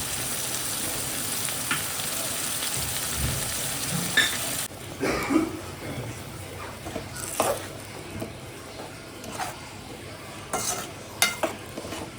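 Masala for paneer butter masala sizzles loudly in hot oil with chili soaking water added, a dense steady hiss for the first few seconds, then a quieter simmer broken by scattered stirring clinks and scrapes.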